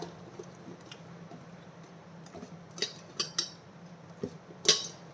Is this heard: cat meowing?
no